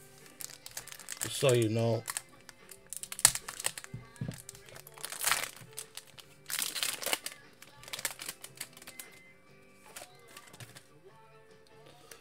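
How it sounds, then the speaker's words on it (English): A football card pack wrapper is sliced open with a knife, producing brief crinkling and tearing of foil plastic in short bursts, with someone talking intermittently nearby. "I'm going to open it with the knife because I don't want to ruin any of your cards"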